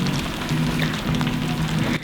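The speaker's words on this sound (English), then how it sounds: "It is rainy, it is cloudy." Steady rain falls on a cabin in the woods, a dense, even patter that carries on without a break for the whole stretch at a moderate level.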